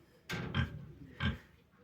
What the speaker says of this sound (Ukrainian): Так, хрюкають свині